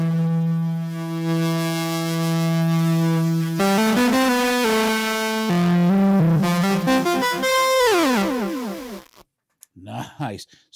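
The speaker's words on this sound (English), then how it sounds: "Let's add this clipper in." The clipper distortion in the Shaper audio destroyer AUv3 plugin is added to a synth tone. A clean held note turns harsh and buzzy with dense overtones and sweeping pitch shifts, then cuts to near silence with a few sputtering blips at the end.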